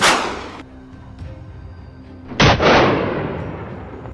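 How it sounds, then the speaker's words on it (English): Two loud gunshots during a wild boar hunt, the first at the very start and a second around the midpoint, each a sharp crack followed by a long echoing decay rolling through open air. "The gunfire echoed through the air,"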